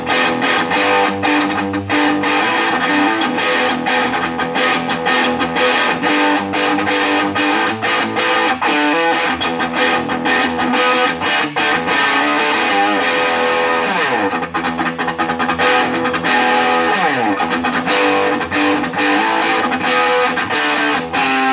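Electric guitar with humbucking pickups plays through a Vox AC30 amplifier with the treble turned up, a loud, bright, nearly distorted tone ringing out in sustained chords and strummed passages for over twenty seconds, no voices.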